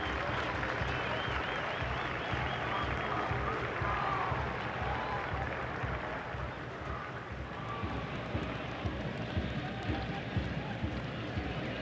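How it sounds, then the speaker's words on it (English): A stadium crowd at a USA versus Australia soccer match applauds a departing player. Broad, sustained clapping and crowd roar stay at a steady level throughout. "Christian Pulisic getting a round of applause from the crowd as he leaves"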